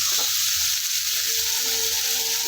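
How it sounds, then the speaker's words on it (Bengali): Chopped bottle gourd sizzles and fries in hot oil in a pan, being stirred, a steady loud crackling hiss with no voices. "লাউটাকে তেলের মধ্যে দেওয়ার পরে তেল আরও মোটামুটি এক থেকে দুই মিনিট তেলের মধ্যে ভালো করে লাউটাকে নাড়িয়ে চাড়িয়ে নেব"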